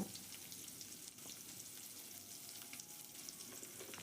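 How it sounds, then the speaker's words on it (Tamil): Garlic sautéing in a pan with asafoetida for a bitter gourd kuzhambu, a steady close, dense sizzle that holds evenly throughout with no talk over it. "இப்போது பூண்டு ஒரு ஒரு நிமிஷம் நல்லா வதக்குங்க"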